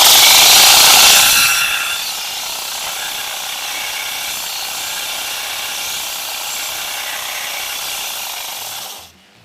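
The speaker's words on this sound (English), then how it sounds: "We're going to focus on the weld, but keeping this as flat as possible." Welding on a 1932 Ford chassis under repair makes a loud, steady crackling hiss that surges at the start, settles into a continuous buzz, then cuts off abruptly.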